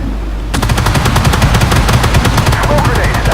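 Rapid autocannon bursts from a tank in the online tank battle game Armoured Warfare, a loud, sustained stream of evenly spaced shots starting after a brief lead-in, with faint voice chat underneath.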